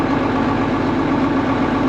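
Case 1570 tractor engine heard from inside its factory cab, a loud, steady low diesel drone with constant vibration and no change over the short stretch, with no talking.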